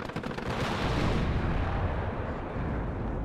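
A tank gun firing in the Cold War strategy game WARNO, a loud booming blast that opens the clip and then rolls into a long, heavy rumble that slowly fades.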